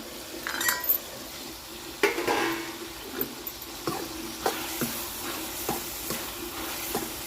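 Ridge gourd stir-fried in a pan after the lid comes off, a soft sizzle broken by repeated clinks and scrapes of a metal spatula.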